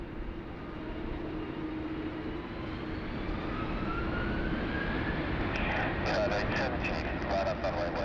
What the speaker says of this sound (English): Qantas 431, runway 16 right, clear takeoff